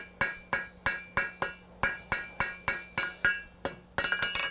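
Rhythmic metal hammer blows on hot steel on an anvil, about a dozen evenly spaced strikes with the hammer's flat face, each bright clang decaying quickly, close and loud.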